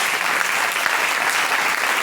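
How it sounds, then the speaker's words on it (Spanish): A church congregation applauds as an offering to the Lord: steady, dense clapping that fills the whole stretch at an even level, with no voices on top. "Denle una ofrenda de aplausos al Señor"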